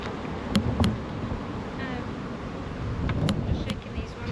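Honey bees and drones buzz around an open hive in a steady, moderately close drone, with a few sharp clicks and light handling noise on top.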